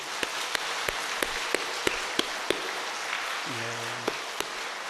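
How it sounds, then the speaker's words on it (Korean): A church congregation claps together in a steady, even rhythm to encourage one another. Crisp unison claps sound over a soft wash of scattered applause and room noise, with a short musical tone near the end. "우리 옆에 분에게 큰 박수로 격려하겠습니다"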